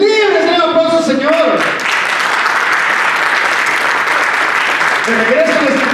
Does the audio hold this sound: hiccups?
no